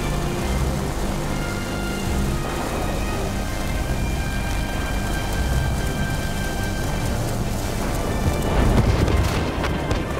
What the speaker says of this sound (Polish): Burza jest zbyt silna.